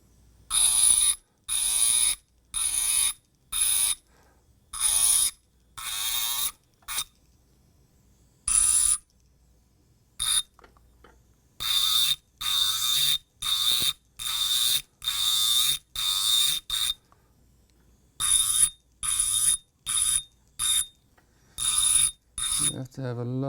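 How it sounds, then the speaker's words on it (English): A handheld grinder works holding tags off a green-state zirconia disk in short bursts, each a high, steady whine switching on and off repeatedly with brief silences between, close and loud. "once I've done grinding these off, I will not have to grind on the zirconia again"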